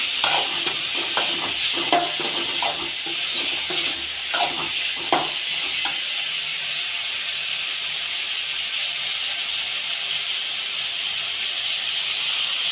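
Turkey berries sautéing in a pan for a Tamil tamarind curry, with a steady sizzling hiss and scattered stirring scrapes and clicks during the first half, then a continuous even sizzle alone.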